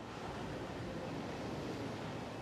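Ocean waves breaking in a shore break at a surf contest, heard as a steady, fairly faint wash of broadband surf noise with no distinct individual crashes.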